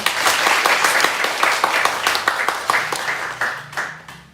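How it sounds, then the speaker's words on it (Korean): A church congregation claps in thanks during Sunday worship, a loud burst of many hands with distinct individual claps that thins and fades over a few seconds. "감사의 박수 한번 하겠습니다"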